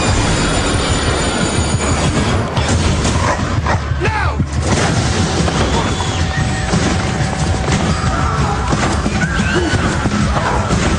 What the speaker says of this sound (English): They're on a train, subway.